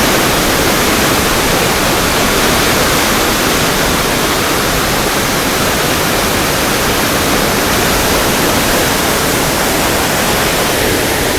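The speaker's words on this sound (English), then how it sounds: "How do you like this waterfall?" Roadside waterfall a few feet off the highway near Skagway, Alaska, a loud, constant broadband rush of falling water with no voices.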